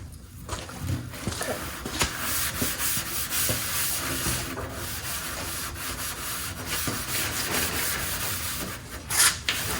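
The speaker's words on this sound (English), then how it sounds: "I'm sanding the wheel tubs like right here." Continuous rough scraping of sandpaper rubbed back and forth on a Fox-body Mustang's metal wheel tubs, loud and close, with a steady abrasive texture throughout.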